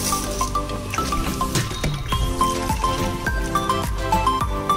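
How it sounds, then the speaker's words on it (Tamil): Raw mutton for a biryani washed by hand in water with turmeric, steady squelching and sloshing with drips and a few clinks against a vessel, close and continuous. "ஸோ இதை நல்லா நம்ம வாஷ் பண்ணிக்கலாம் மஞ்சள் போட்டு."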